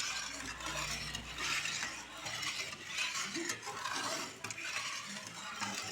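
A spoon stirs cornflour into milk in a pot for a homemade fried-milk sweet, making a close, continuous swirling scrape with light clinks against the vessel and no talking.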